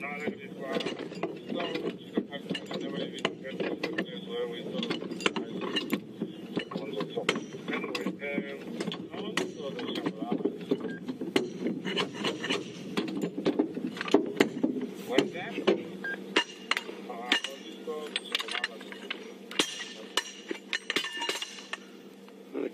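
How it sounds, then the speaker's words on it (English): Wheel bolts being tightened during a tire change on a safari vehicle, heard as close mechanical clinks and ratcheting clicks in an uneven rhythm, with people talking over them throughout. "When I loosen the bolts, or tighten the bolts rather."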